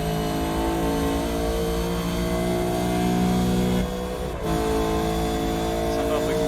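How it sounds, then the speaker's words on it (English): Ford Falcon race car engine in the iRacing sim at Phillip Island Circuit, a steady loud mid-pitched drone that holds through a lap with a brief dip in the middle, with talk over it. "Jumping for a lap around in a Falcon here."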